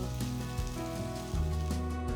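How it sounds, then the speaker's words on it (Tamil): Ginger garlic paste sautés gently in a pan for a spicy Andhra prawn masala, giving a soft steady sizzle throughout with no voices. "இஞ்சி பூண்டோட பச்சை வாசனை போகிற வரைக்கும் லேசா வதக்கிக்கலாம்."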